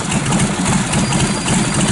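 A Harley-Davidson Knucklehead motorcycle engine idles loud and close, a dense steady rumble with no break across the short stretch.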